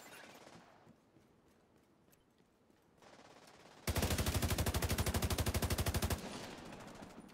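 Rapid automatic sniper turret fire in The Division, a long burst of evenly spaced loud shots after quieter game ambience, with faint earlier background noise.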